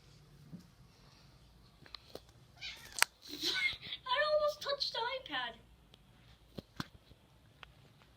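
A cat in a room with a noisy ceiling fan lets out a run of drawn-out meows in the middle, close and clear. Quiet stretches with scattered faint clicks and taps come before and after.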